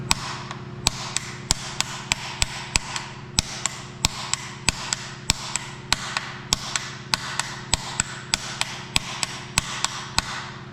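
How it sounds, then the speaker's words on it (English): A light hammer taps a Detroit Diesel 4-53T front cover into place, a long run of sharp metallic taps spaced at a steady, roughly half-second rhythm over a low engine-room hum, close and unaccompanied by talk. "I'll tap it down a few, just with a light little hammer."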